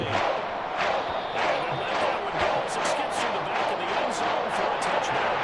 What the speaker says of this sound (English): You see how they got their signature crowd chant and stuff.